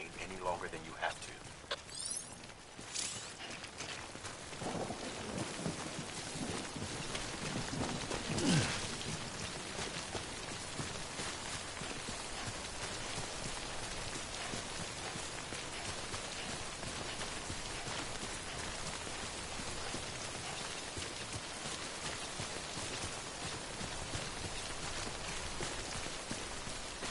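Steady timefall rain from the Death Stranding video game, a continuous dense patter falling across the whole stretch, with a voice speaking over it.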